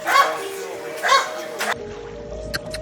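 A dog gives two short yipping barks a second apart, then quiets, with faint background noise and a couple of small clicks.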